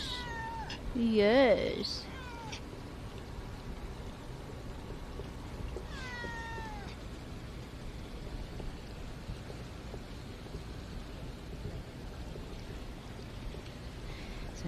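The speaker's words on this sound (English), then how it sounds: "Now we have a kitty cat and a sunset by the water." A cat meows twice by the water at a Key West wharf, the first meow close and strong, the second softer, over a steady outdoor hiss while a person talks warmly nearby.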